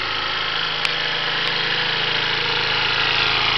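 A small engine runs steadily after starting on the first pull of the starter cord, a loud continuous buzzing drone with a constant pitch throughout, close by and with no voices over it.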